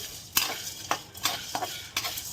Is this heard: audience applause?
no